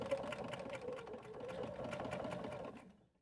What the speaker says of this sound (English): Let's step to our machine and stitch the bottom.